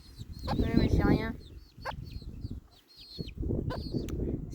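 A hen clucks close by on a livestock farm during a storm, short pulsing calls over gusty low rumble, with a person talking softly at moments.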